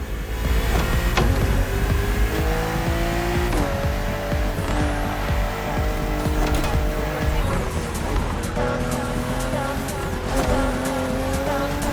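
BMW M2 and M4 cars racing in The Crew Motorfest on a narrow road full of sharp bends, with loud engines revving and shifting gears steadily alongside repeated tire squeals through the corners.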